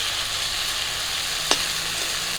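Potatoes and taro sizzle steadily as they fry in a pan for a Bengali fish curry, with a dense, continuous hiss, one brief stirring clatter midway and another near the end.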